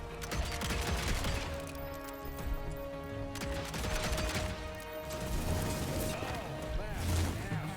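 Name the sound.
gun firing in Evil West video game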